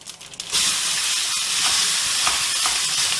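Curry leaves dropped into hot oil for peanut rice, a sudden loud sizzle that starts after a brief quiet moment and then holds as a steady, close, bright hiss with small pops.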